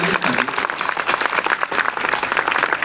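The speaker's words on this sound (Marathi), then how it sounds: "जोरदार टाळ्या झाल्या पाहिजे" An audience at a Shiv puja gathering in Amravati bursts into loud, dense applause, many hands clapping continuously and close by throughout.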